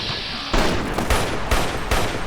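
A battle rifle fires in a Fallout game mod with loud, close shots in a quick rhythmic string, each bang ringing into the next.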